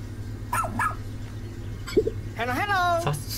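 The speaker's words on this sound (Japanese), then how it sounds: "さすが我が隊自慢の救助犬です" Oatchi, the rescue dog in Pikmin 4, lets out a few short yips and a longer rising whine over a steady low game hum, with a person talking partway through.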